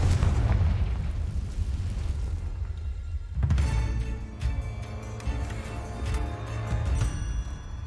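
A Confringo fire spell in Hogwarts Legacy sets off a loud, rumbling explosion that fades over a few seconds, then a second burst with crackling debris follows.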